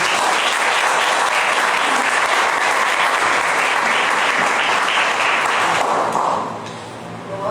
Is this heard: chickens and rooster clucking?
no